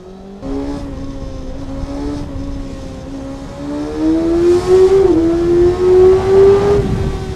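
A Kawasaki ZX6R motorcycle engine idles steadily, then is blipped and revved harder in rising, wavering surges toward the end, loud and close, with no talking.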